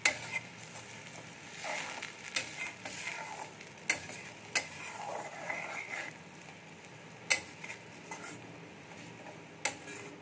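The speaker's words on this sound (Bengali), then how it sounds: "এই পেস্টটা আমি তেলের মধ্যে দিয়ে দেব। মশলাটা খুব ভালো করে কষিয়ে নেব।" Tomato paste and spices frying in oil for a soybean dish, a quiet low sizzle beneath a series of sharp ticks and clicks from a utensil against the pan, no talking.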